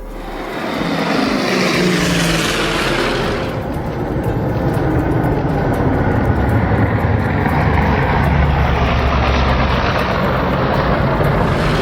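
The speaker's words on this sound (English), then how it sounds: "Firefighting plane getting a drink right next to a cruise ship in France." A firefighting plane scoops water from the sea beside a cruise ship in France, its propeller engines roaring loud and steady throughout, with a broad rushing wash that swells after the first few seconds.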